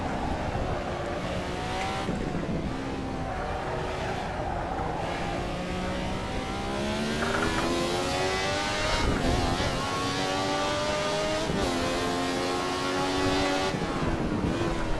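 Simulated Ferrari 312T race car engine on the Nürburgring in Assetto Corsa, a loud continuous high-revving wail that climbs and drops through repeated gear changes and braking, with no talk.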